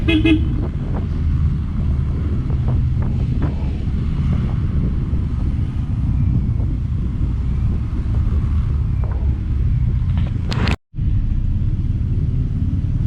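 Traffic is jammed on a road in Noveleta, Cavite, heard as a loud, constant low vehicle rumble with a few brief horn toots early on and a sudden cut near the end.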